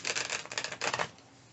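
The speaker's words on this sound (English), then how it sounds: "I just did a very terrible job of shuffling these cards." Tarot cards being shuffled by hand: a quick run of papery riffling and flicking for about a second, then it trails off into quiet.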